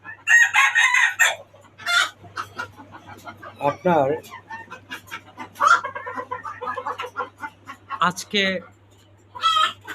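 Roosters and hens in rooftop cages at a small hobby farm of local and foreign breeds crow loudly and repeatedly, with clucking in between, close by, while someone speaks briefly among the calls.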